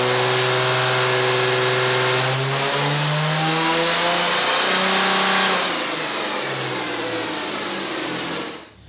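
A 2019 RAM truck engine roars through a dyno pull, its pitch climbing steadily under load, then letting off and winding down near the end; loud and close, with no talking.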